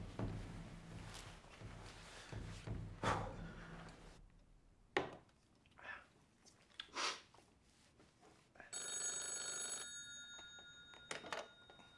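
A telephone rings on an outgoing call, a repeated electronic ring tone heard faintly near the end after some rustling and handling noises, with no voices.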